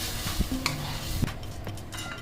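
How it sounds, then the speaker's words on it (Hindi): Lightly fried potatoes stirred with curd in a pan for UP-style dahi aloo, a soft scraping and stirring with a few small clinks against the pan, close and steady. "अब इसमें मैं ये कर्ड डालूंगी। अभी मेरे को इसको चलाते रहना है।"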